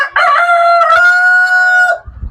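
A Rhode Island Red rooster crows loudly and close, one long sustained call that holds a steady pitch and then tails off, followed by faint rustling.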